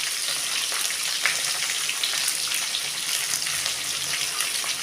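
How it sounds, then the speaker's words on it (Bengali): Onion, tomato and capsicum fry in oil in a wok, a steady, close, crackling sizzle that holds evenly throughout. "কড়াতে এখন পেঁয়াজ, টমেটো, ক্যাপসিকাম ভাজা হচ্ছে।"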